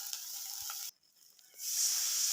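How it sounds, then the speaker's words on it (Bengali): Spice paste sizzles steadily in a hot pan while a curry with taro, eggplant, papaya, potato and egg is being cooked. The frying dips almost silent for a moment, then returns louder and hissing. "মশলাটা দিয়ে একটু ভেজে নিলাম।"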